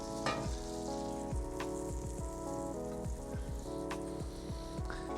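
Butter melts and sizzles in a pan ready for French toast, a quiet continuous spitting fizz with scattered pops and light clinks, tonal background music playing underneath.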